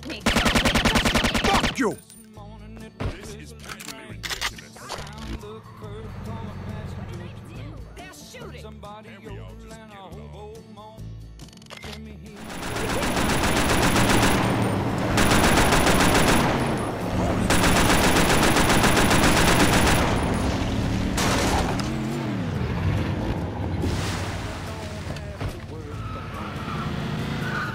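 Gunfire in a cutscene from Scarface: The World Is Yours: a long, loud spray of automatic shots mixed with shouting voices, engine noise and a dramatic score.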